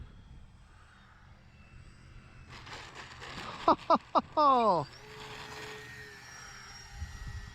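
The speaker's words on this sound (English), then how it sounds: "Oh man, what a sweet flying plane." A Dynam Grand Cruiser V2 RC model airplane on a 3S battery flies overhead, its electric motor whine rising in the middle with a few sharp bursts, while wind and background noise fill the quieter stretches.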